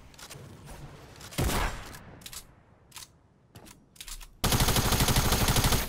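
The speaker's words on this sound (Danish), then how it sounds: "Der er andre, der skyder på mig også." Other players' gunfire in Fortnite crackles in scattered shots, then swells into a loud, sustained rapid burst at the end, with only faint game sounds between volleys.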